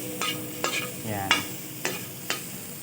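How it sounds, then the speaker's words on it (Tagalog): Meat toasting in a pan until it releases oil, a close sizzle punctuated by five sharp spoon strikes and scrapes spaced roughly half a second apart. "Tutostahin lang natin to ng konti. Ay hanggang sa magmantika."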